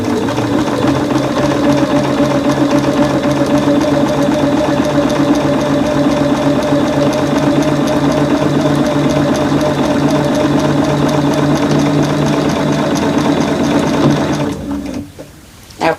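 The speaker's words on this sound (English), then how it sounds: "it seemed to have sewed over that seam just as nicely as the other" A sewing machine runs steadily over a quilt seam for a long continuous stretch, a close, even mechanical hum and whir that stops abruptly near the end.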